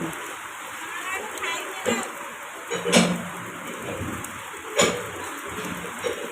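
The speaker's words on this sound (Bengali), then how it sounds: "এ দেখুন রাস্তায় পড়ছে বৃষ্টি" Steady rain falls on a road with a constant hiss, broken by a few louder splashes and drips.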